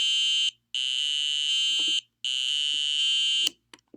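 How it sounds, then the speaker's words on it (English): A loud, steady electronic buzzer sounds in three long bursts with short gaps, followed by a few faint clicks. "That's how you use the buzzer."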